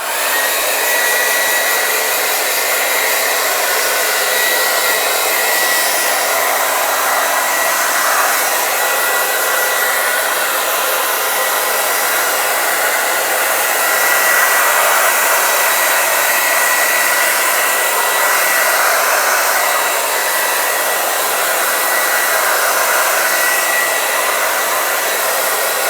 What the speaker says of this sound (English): I'm going to go ahead and use my blow dryer and make sure that it's really, really dry